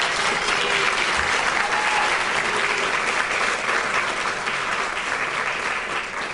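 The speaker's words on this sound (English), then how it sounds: "I want a round of applause for Maddie" A dinner crowd at an annual fundraising event applauds for an honoree, with dense and sustained clapping from many hands that stays loud throughout and eases slightly near the close.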